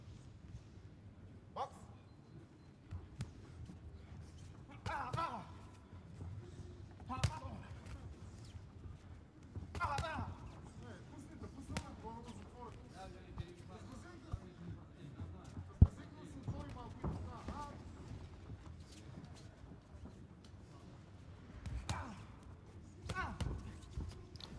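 Punches landing in an amateur 60 kg boxing bout at a 2021 tournament in Kielce: repeated sharp thuds in irregular bursts, set within steady crowd and arena noise, with commentary voices talking throughout.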